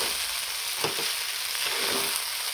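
Sabudana khichdi with potato and green chili sautéing in a pan, a dense steady sizzle with a couple of soft scraping stirs, close and unbroken, no talk.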